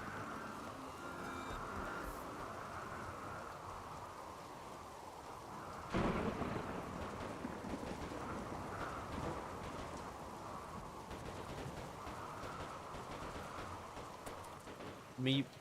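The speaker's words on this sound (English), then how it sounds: "Did lightning really strike that ammo?" A lightning strike in a colony-building video game brings a sharp thunder crack partway through, then a long rumbling roll over a steady bed of heavy rain, with a voice faintly present.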